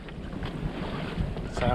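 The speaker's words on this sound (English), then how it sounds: "we got some wind." Wind at sea rushes past a sailing boat in a short, steady, close blustery hiss, with faint water movement beneath.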